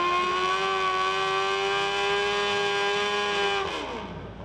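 Racing motorcycle at the Macau Motorcycle Grand Prix, a loud, sustained high-revving engine whine held at a steady pitch before it drops sharply and fades as the bike passes by.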